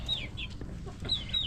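Large chickens cluck close by, giving a few short, throaty calls in quick succession over a low background murmur.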